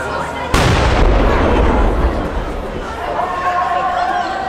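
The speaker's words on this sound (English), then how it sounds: "The cannon going off was crazy." A cannon fires in Turkey with a single sudden, very loud boom whose rumbling, crackling roar fills the next couple of seconds and then fades under a crowd's murmur.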